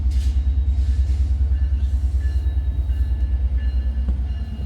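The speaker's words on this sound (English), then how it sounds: "I think I hear the train." A train rumbles past on the track at the old historic Nelson station, a loud, steady low rumble with a rhythmic pulsing beat that fades slightly toward the end.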